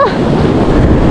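Rough ocean waves churning loudly at sea, a close, continuous roar of surf with heavy wind buffeting the microphone.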